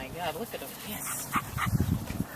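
Dogs at Mansfield Hollow whimper and give small yips close by, brief high whines and a few short barky sounds mixed with people talking over them.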